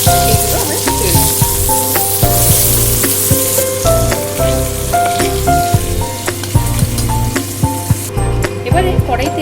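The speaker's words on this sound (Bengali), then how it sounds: "বাকি চিংড়িটাও এভাবে ভেজে নেব।" Prawns fry in oil in a wok, a dense close sizzle with scattered pops and spatters running throughout, overlaid by a steady low hum and occasional clinks of a utensil.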